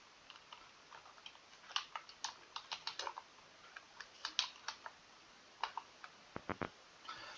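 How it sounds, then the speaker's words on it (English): Keys tapped on a computer keyboard while entering a search in VS Code, an uneven run of light, close clicks with short pauses, ending in a few firmer keystrokes in a quiet room. "So once you type extension pack,"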